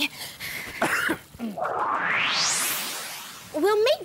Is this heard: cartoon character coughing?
yes